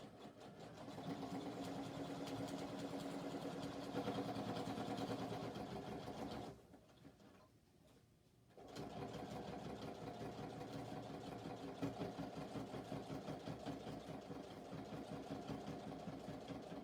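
A sewing machine stitches the side seam of a criss-cross shoulder bag, making a steady rapid whir that stops for about two seconds mid-way and then resumes, close and without talk.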